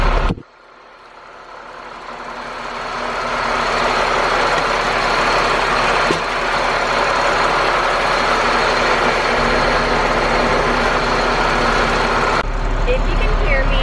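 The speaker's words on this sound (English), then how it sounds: "Driving an LMTV." An LMTV military truck engine drones steadily while driving, a loud, continuous low rumble and broad roar from inside the cab that holds for the whole stretch after a brief quiet start, with a voice speaking over it.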